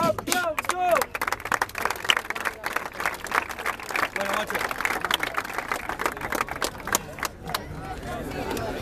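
Crowd applause and clapping at the final of a Spanish-language rap battle in Santa Fe, dense and sustained for several seconds, with cheering and crowd babble mixed in.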